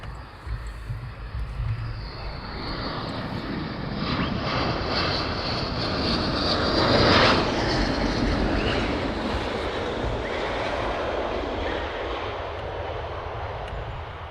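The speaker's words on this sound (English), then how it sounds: "So we do have some F-35s, I think. 2 of them, I do believe." Two Lockheed F-35 fighter jets inbound at RAF Lakenheath, a broad roaring engine rumble that swells steadily, peaks near the middle and holds loud and sustained to the end, with no talking.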